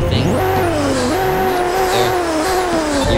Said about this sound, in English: you're just going to rev up your car as usual